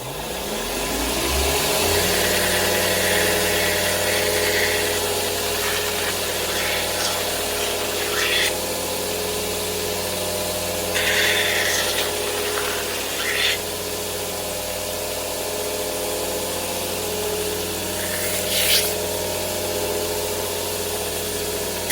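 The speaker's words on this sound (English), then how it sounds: "I'm gonna go to the belt grinder and clean and smooth this up." A belt grinder spins up and runs steadily while smoothing the edges of a kydex knife sheath, giving a loud, constant motor whine with occasional brief scraping bursts as the plastic meets the belt.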